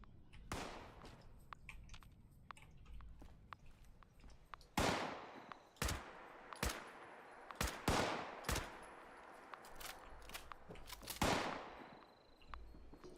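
Rifle shots crack in Fallout 76, a scattered series of loud single reports spread irregularly over several seconds, with quieter clicks and small sounds between them.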